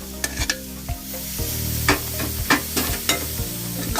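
Mussels tossed into a pepper masala for a Kerala-style mussels roast sizzle steadily in the pan, with repeated sharp scrapes and clinks of a spoon stirring through the mix, no talking.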